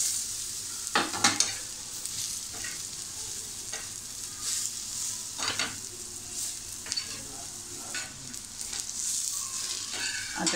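Grated fresh coconut sautéed in a pan, giving a continuous gentle sizzle broken by repeated scraping stirs of a spoon, heard close and alone.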